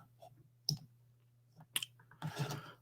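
Computer mouse clicking, a few sharp separate clicks spaced across a quiet stretch with a faint low hum beneath and a brief rustle near the end, no talking.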